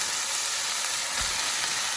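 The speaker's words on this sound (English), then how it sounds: "I'm going to start sauteing it." Shredded cabbage sautéing in a pot for a white navy bean and cabbage noodle soup, giving a steady close hiss and sizzle with a soft stir near the middle, no voices.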